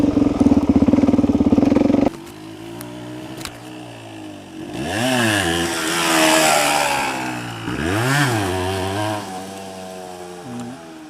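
A dirt bike engine idles with a rough putter, then revs up in two rising, whining surges before settling back to idle.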